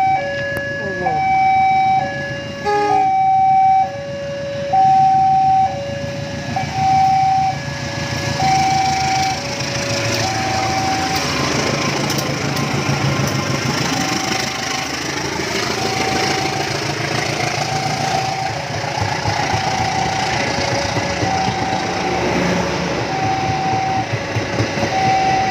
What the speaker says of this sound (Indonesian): mari kita saksikan keberangkatan kereta api Probowangi dari stasiun Probolinggo